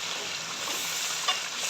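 Yogurt is stirred into a sizzling masala for Lahori chicken chana gravy, giving a close, continuous hiss and frying crackle with light stirring scrapes.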